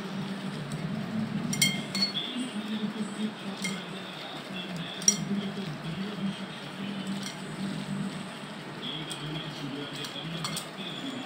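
Kachki fish being mixed by hand with mustard oil in a bowl, with soft wet squishing and occasional light clinks against the dish, steady and close over a faint background hum.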